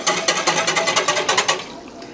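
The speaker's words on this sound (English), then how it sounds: "this stuff doesn't want to dissolve, so I'm just going to kind of give it a little whisk" A whisk stirs yarn dye into a bowl of water, scraping and clacking in fast, even strokes close up, roughly eight per second, before trailing off into quiet near the end.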